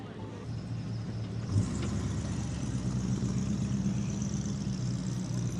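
A Lamborghini pulls out at an outdoor car show during a hot air balloon festival, its engine running with a low steady drone that rises in level partway through, heard amid background crowd noise.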